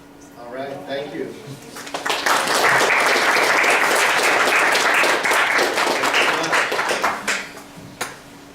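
Lecture-hall audience breaking into applause, dense clapping swelling after a brief spoken moment and holding steady for several seconds before tapering off.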